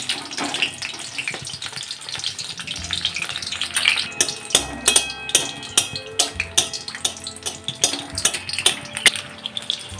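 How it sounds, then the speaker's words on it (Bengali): Battered ridge gourd slices frying in sunflower oil over a low flame, a steady close sizzle punctuated by sharp crackling pops that come in a fairly regular rhythm. "এক পিঠ ভাজা হয়ে গেছে, অপর পিঠটাও এইভাবে ভেজে নেব।"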